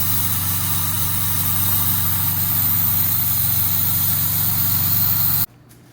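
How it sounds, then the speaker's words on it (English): A Jaguar XK150 engine idles steadily at about 1,000 RPM with its starting carburetor working, a close, loud, even rumble that cuts off abruptly near the end. "You can really hear that starting carburetor working."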